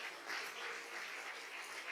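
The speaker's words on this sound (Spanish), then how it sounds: "Dele un aplauso a la gloria de Dios." Church congregation applauding during a Spanish-language sermon, a steady broadband clatter of many hands clapping at moderate distance, sustained evenly for a couple of seconds with no voices over it.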